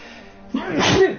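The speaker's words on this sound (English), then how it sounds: "I'm gonna sneeze again." A single loud sneeze bursts out after a quiet stretch, with a sharp breathy onset and a voiced tail, close to the listener.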